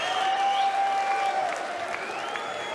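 A darts crowd at the Austrian Darts Open 2017 applauds and celebrates, with steady clapping and crowd noise throughout and faint whistles or cheers on top.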